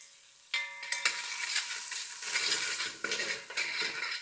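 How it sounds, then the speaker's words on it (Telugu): Chopped onions with salt frying in a pan: a close sizzle with repeated scraping and clattering strokes of a spoon against the pan, uneven and fairly quiet. "ఉప్పు వేసి ఉల్లిపాయలు లైట్‌గా సాఫ్ట్ అయ్యేంత వరకు ఫ్రై చేసుకోండి."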